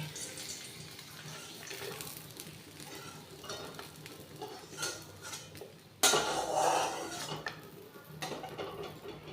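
Crisp-fried bitter gourd is lifted out of a kadai with a metal utensil, producing quiet clinks and scrapes against the pan over faint frying, with a louder clattering burst partway through.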